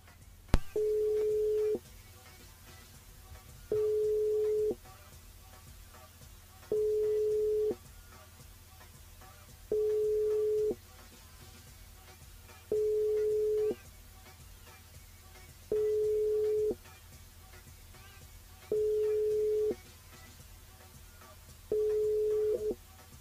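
A telephone busy signal on an unanswered call during a live radio show, a steady tone repeating in even beeps about every three seconds, moderately loud and alone.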